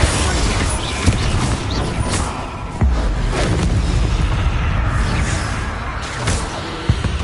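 Heavy booming blasts of the Bombarda explosion spell in Hogwarts Legacy, loud and sustained with a few sharp impacts and rumbling debris, a voice briefly heard over the chaos.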